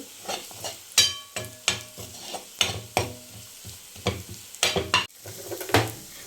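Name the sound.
onions and chilli powder sautéing for kurma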